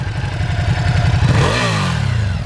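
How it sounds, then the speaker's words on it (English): A 2020 Ducati Hypermotard 950 SP with stock exhaust revs up loudly and close by, a lumpy idle rising into a sharp throttle blip that then falls away. "You want to give us a couple revs there?"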